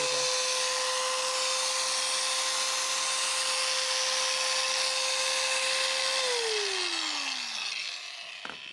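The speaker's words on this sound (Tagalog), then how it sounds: "dito naman tayo sa grinder guys." A 3-in-1 power tool running as an angle grinder, a loud steady high whine held close for several seconds before the pitch falls away as the motor spins down.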